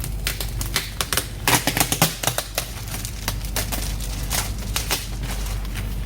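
A Lenovo V14 laptop package is unboxed close up, with irregular crisp clicks, rustles and tearing taps of cardboard and packing coming in quick clusters over a steady background hum.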